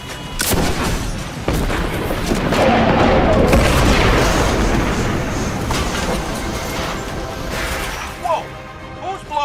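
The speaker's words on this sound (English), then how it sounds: "I'm gonna get eyes on that explosion." Explosion in the video game Destiny 2: Forsaken, a heavy booming blast followed by a long rumbling roar and debris clatter, loud and close, fading into scattered impacts.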